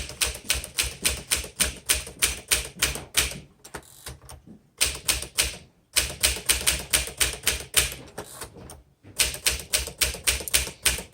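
A 1958 Smith Corona Silent Super manual typewriter typing in bursts of rapid, evenly spaced key strikes, close and crisp, with short pauses and carriage-return breaks between the runs of keystrokes.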